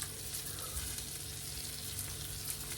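Eggs sizzle and fry in a heavily buttered pan, a steady close crackle holding for nearly three seconds with no talking.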